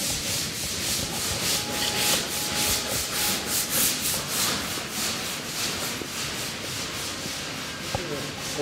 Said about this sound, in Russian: шлифовка, полировка